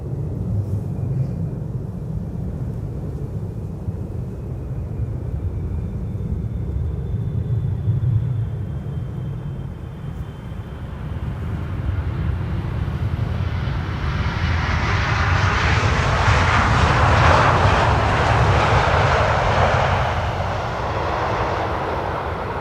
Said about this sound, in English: That's a Cargolux 747, all right. Approaching the Polderbaan, landing here in minutes from now.